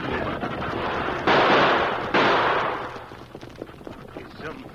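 Two loud gunshot blasts in an old-time radio stagecoach hold-up drama, each a sudden burst followed by a decaying roar, then fading into quieter background.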